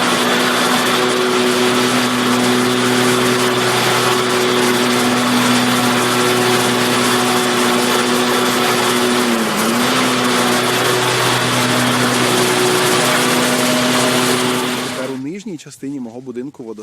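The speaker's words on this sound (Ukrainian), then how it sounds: "Отже, коли я під'їжджаю на газонокосарці" A riding lawn mower engine drones loudly and steadily, its pitch wavering slightly, then it cuts off near the end.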